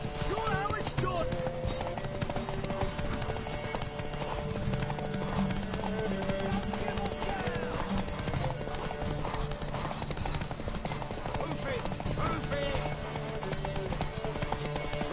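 Horse hooves clip-clop steadily in the Witcher 3 Gwent card game, a continuous trotting rhythm at moderate level under game music and background ambience.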